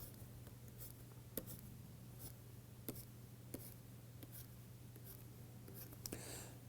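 Pen or marker scratching on a board or paper while sketching a diagram during a physics lecture on lattice vibrations, with soft intermittent strokes and taps over a steady low electrical hum.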